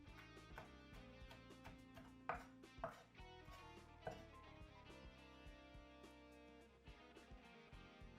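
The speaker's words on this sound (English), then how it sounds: "we want to try and cut these chilies as finely as we can" Quick knife taps on a cutting board chopping bird's eye chilies finely, a scattered series of sharp chops over a bed of soft background music.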